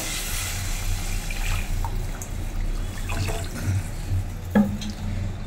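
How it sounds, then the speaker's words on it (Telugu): Water pours steadily into a cooking pan, a close, continuous splashing and gushing stream with a few brief clinks, and no talk. "ఇందులో వాటర్ వేసుకోవాలి."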